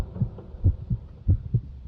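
Heartbeat sound effect in a Spanish horror story narration, a low, muffled, steady lub-dub pulse repeating several times in under two seconds, alone without speech.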